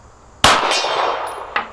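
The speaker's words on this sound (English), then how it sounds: "Back to the gong." A pistol bullet strikes a steel gong target at a shooting range, giving a sharp loud metallic clang that rings and decays, followed by a second fainter hit near the end.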